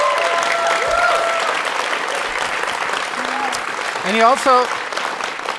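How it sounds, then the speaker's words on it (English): An audience applauds for Tash during an interview event with a singer, steady clapping in a room with a speaker's voice briefly cutting through over it. "We should probably hear some applause for Tash then."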